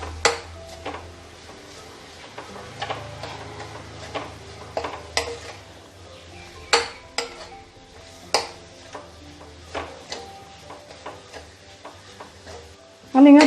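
A spoon stirs and mixes potato samosa filling in a pot, producing scattered scraping and knocking sounds close by.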